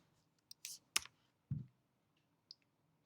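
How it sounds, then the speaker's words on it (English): A few separate key presses on a computer keyboard while entering a router command, sparse close clicks spread over a few seconds in an otherwise quiet room. "To get back to the global configuration mode, type exit."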